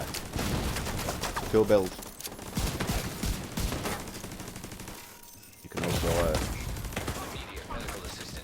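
Gunfire from The Division 2 in several rapid bursts, fairly loud, broken by a short lull before the shooting picks up again, with a voice speaking briefly over it.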